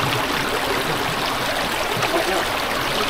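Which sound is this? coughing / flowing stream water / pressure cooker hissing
flowing stream water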